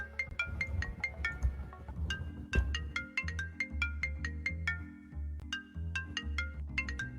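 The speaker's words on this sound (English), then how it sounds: "Dumb phone. I thought I put you on silent." A phone ringtone in a Minecraft roleplay game plays a bright, repeating melodic pattern of short plucked notes over a steady low bass line, clear and continuous with no talk.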